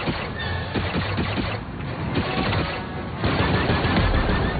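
A turret firing in a Star Wars-style action video game, a fast rattling barrage of shots with rumbling booms, loud and continuous amid dense battle noise.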